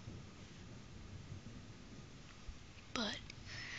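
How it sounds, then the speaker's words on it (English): Distant thunder from a Wisconsin thunderstorm rolls as a low, steady rumble under rainy background noise, with a brief soft voice near the end. "I don't know if you can even hear the thunder"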